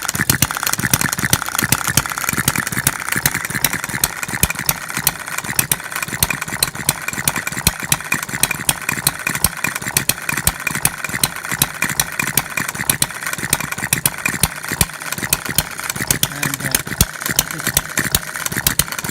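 A small scratch-built hit-and-miss model engine runs nearby, its governor locking out the exhaust valve, with rapid, steady, rattling firing pulses, a continuous mechanical chugging and clatter lasting throughout, no voices.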